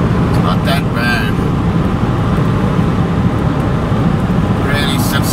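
An Isuzu X-Rider pickup cruising on a highway after gravel roads, heard from inside the cabin as a steady loud low rumble of road and engine noise with a few brief higher whooshes.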